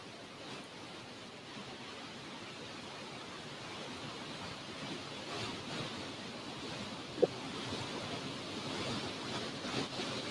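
Steady gusting wind from Hurricane Milton roars outdoors into a boom mic, a broad rushing noise that swells and eases, with a single brief knock partway through.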